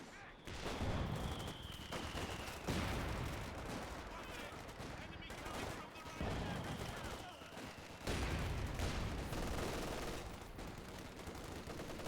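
Machine gun fire in a WWII strategy game, a steady, dense rattle of bursts sustained across the whole stretch with repeated surges, under faint voices.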